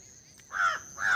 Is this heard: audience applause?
no